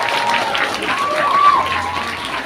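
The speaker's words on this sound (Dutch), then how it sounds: "En dan geven we jou een groot applaus terwijl je de trap afloopt" Audience applause at a fan day Q&A show at Duinrell, a steady dense wash of clapping from a crowd as a fan walks down the stage steps, with a voice speaking over it.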